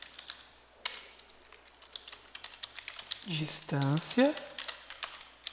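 Rapid, irregular clicks of a computer keyboard as code is typed, close and fairly quiet, with someone speaking over the keystrokes in the latter part.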